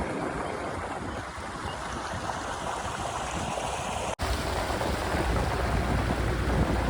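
Muddy water pumped out at a construction site for a tower in Amaravati makes a steady, loud rushing and gushing roar that continues throughout, with one very brief dropout partway.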